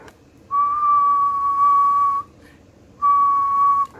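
A steady pure whistle tone from a Yaesu FT-757GX II radio transceiver with FC-757AT auto tuner, sounding for about two seconds, then a pause, then a shorter second burst; loud and clean.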